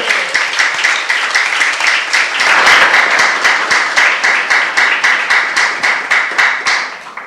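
Church congregation at a youth service sermon claps in a strong, rhythmic unison beat, loud and close, repeating evenly for several seconds with little talk over it.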